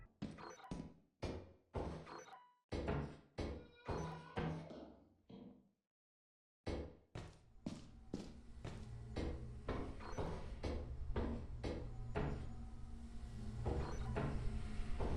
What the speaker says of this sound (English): You'll hear like knocking in the walls, and when entities spawn, you can hear them walking around and stalking you